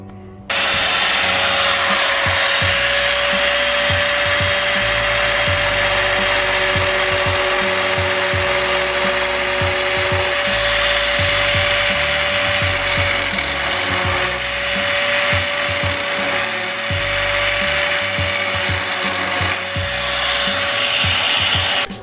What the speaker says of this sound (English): So now, I'm gonna grind this out, make it look dope and not chunky and disgusting.